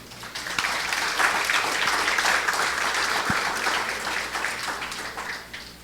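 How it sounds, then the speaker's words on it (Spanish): Church congregation applauding during a sermon, a dense, steady wash of many hands clapping together for about six seconds, fairly close and full without pause. "Le damos un aplauso al Señor"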